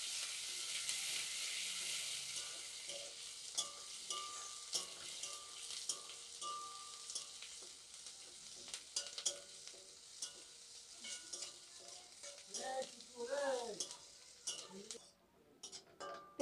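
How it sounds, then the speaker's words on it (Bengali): Chopped onions frying in a pan for a village-style rui posto: a bright continuous sizzle with frequent scraping stirs and utensil taps against the pan, fading slightly as stirring continues; a brief voice-like sound near the end. "পেঁয়াজগুলোকে ভালো করে ভেজে নেব।"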